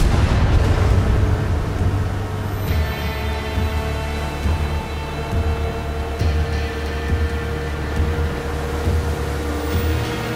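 Far Cry 6 battle explosions rumble through a dense, continuous game mix of deep booms and sustained low roar, loud and steady throughout with no pause, and no speech.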